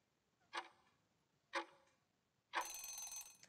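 Two crisp ticks a second apart from a quiz countdown timer, followed by a sustained bright ringing alarm that signals time is up, heard alone with no talking.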